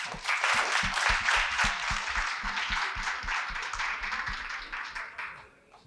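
An audience claps in answer to a host's question at a talk event, a brisk burst of many hands that starts full and gradually thins and fades toward the end.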